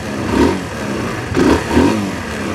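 A 2017 Kawasaki Z125 Pro with its stock exhaust revs up close in three rising bursts over a steady idle, each throttle blip swelling and falling back, fairly quiet and mellow.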